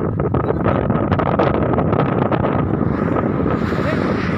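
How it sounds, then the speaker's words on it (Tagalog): Steady, loud wind roars and buffets against the microphone throughout, a constant rushing noise with no pauses. "Kaya na medyo mahangin-hangin na."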